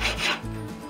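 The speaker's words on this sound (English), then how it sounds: "run the sanding across the joint" Sanding block rubbed across an MDF-backed wooden joint during a Fisher Youngster V kit plane build, one short close rasping stroke, fairly loud and alone.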